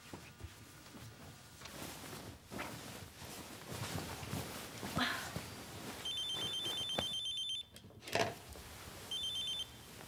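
Telephone ringing in a Korean drama household scene, a steady electronic trill in two bursts with a short pause between, fairly loud above quiet room noise and footsteps.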